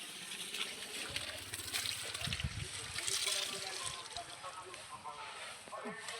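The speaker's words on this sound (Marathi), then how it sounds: "झालं, झाडाला जातंय पाणी." Water runs from a hose pipe onto a tree in a home yard, making a faint continuous splashing trickle. People talk over it throughout.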